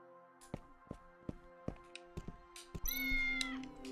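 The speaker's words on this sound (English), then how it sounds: "This is a cat!" A cat in the Tales of the Neon Sea video game: a series of sharp, evenly spaced taps, then a drawn-out, close meow rising near the end.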